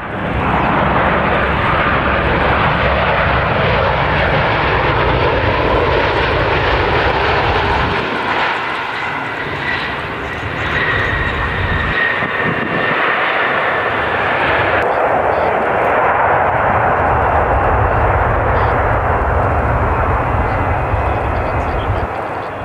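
A Boeing 737 jet airliner roars loudly overhead as it comes in to land at Perth Airport, Australia, at higher than usual speed, its engine rumble swelling and fading across the recording.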